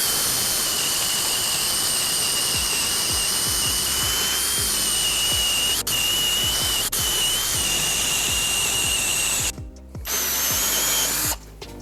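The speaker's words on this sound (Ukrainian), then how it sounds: "Ми спробуємо зразу сорокове перо." A Milwaukee M18 FPD2 cordless drill in first speed bores with a 40 mm spade bit, a loud sustained whine with rhythmic low chattering from the bit, two brief clicks midway, and stuttering stops and restarts near the end.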